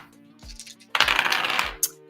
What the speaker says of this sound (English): How are the dice rolling today?